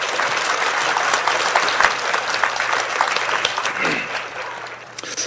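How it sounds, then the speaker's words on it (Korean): An auditorium audience gives sustained applause welcoming Professor Kim Sang-geun before his Renaissance creativity lecture in Gyeonggi Province, a loud dense clapping that holds steady for several seconds before tapering near the end. "김상근 교수님을 큰 박수로 맞이하여 주시기 바랍니다"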